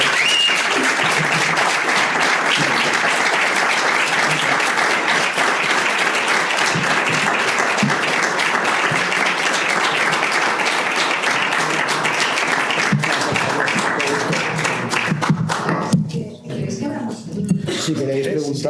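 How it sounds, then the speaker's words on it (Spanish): Audience applause closing a live podcast recording, a long sustained burst of dense clapping from a crowd that fades near the end as a voice begins speaking. "evidentemente hoy tenemos que terminar con un aplauso"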